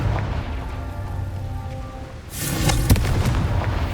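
A Confringo blasting spell goes off in Hogwarts Legacy, the loud burst of a magical explosion hitting partway through and followed by a rumbling, crackling roar that carries on under a low ambient background.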